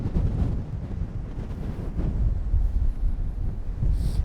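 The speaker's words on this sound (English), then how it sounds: "It's also very, very, very windy." Strong coastal wind at the Giant's Causeway buffets the microphone in steady low roaring gusts, loud and continuous with no talk.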